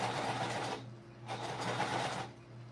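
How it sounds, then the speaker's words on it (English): A sewing machine top stitches along the top of an Addy shoulder bag in two close, steady runs with a short pause between them, ending in a brief lull. "So I'm just top stitching along this top part."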